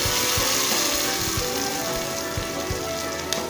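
Onions sizzling in hot oil in a pan while cooking a Tamil dal and banana flower kuzhambu, a dense steady crackle with scattered popping, close and fairly loud.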